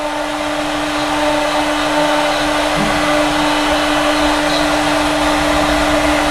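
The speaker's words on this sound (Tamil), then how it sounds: "இப்போ பாருங்கள் மிஷின் வந்து பழையபடி அதோட ஸ்டார்டிங் பிரேக் ஆன இடத்துலேருந்தே ஓட ஆரம்பிச்சிருச்சு" A CNC machine running at sixty percent speed after resuming from a power cut: a loud, constant motor whine with a steady hum, unbroken and close.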